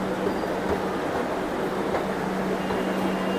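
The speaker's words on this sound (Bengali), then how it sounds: "মেট্রো অলরেডি ঢুকছে" A Kolkata metro train pulls into a station, a steady, droning rumble with a faint tonal hum that holds at an even level throughout.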